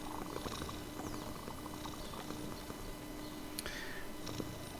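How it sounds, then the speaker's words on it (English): A pet cat purrs steadily and softly at close range, a continuous low rumble running through the whole stretch with faint background noise and no talking. "Hello, kitty."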